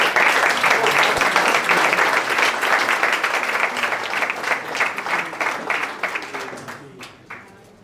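Applause from the audience at the Positive Awards 2024 ceremony for a lighting design and manufacturing company: dense, loud clapping that thins into scattered individual claps and fades out near the end.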